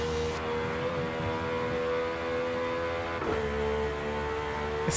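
A V12 engine in Forza Horizon 5 screams at very high revs, over 11,000 RPM, a loud steady harmonic whine held for several seconds with a brief dip and pull-up in pitch partway through.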